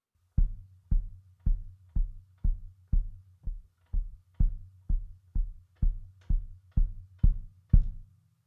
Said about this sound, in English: what we're going to do is we're going to play the kick drum very lightly on all 4 beats of the pattern.